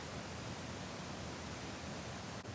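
Large waterfall about 25 feet away at McDowell Creek Park: a steady, dense broadband roar that fills the whole clip without a break, loud and unchanging, with no voices.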